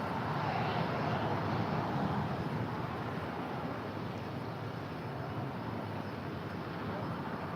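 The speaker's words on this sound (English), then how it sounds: "The 777 making that left-hand turn on to taxiway Lima." An ANA Boeing 777 taxiing onto a taxiway at LAX: a continuous low jet engine drone and rush, steady and fairly distant, fading slightly toward the end with no voices over it.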